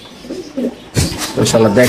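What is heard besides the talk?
pigeon cooing at a pigeon farm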